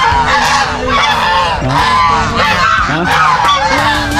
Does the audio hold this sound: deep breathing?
no